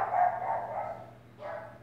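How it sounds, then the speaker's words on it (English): Puppies bark and yelp in two drawn-out, whiny bursts with a short gap between, fairly faint and somewhat distant indoors, with no talking over them. "I hear puppies."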